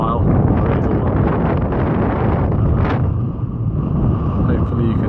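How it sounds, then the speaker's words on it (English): Strong wind gusts buffet the microphone on an exposed North Dartmoor hillside, a loud continuous roar with rising surges, while someone talks over it. "So it's quite windy today."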